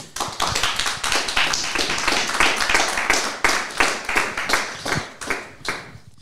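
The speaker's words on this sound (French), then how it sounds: "je pense qu'on peut l'applaudir" Clapping hands from a small audience at the close of a French talk-show broadcast on secularism, sharp irregular claps spread evenly across about six seconds, fairly close and with no talk over them.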